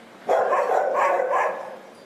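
A rescued dog at the Philippine Animal Welfare Society shelter in Quezon City gives a single drawn-out bark that trails into a whine, close and fairly clear over a quiet background.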